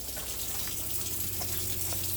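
Caravan tap sputtering and splashing as the water system fills and air clears, a steady hissing gush with small irregular spits, close and fairly quiet, no voices.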